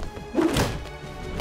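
A Batman takedown strike in Batman: Arkham Knight lands as a single heavy, muffled thunk, a close blunt thud against a steady game background.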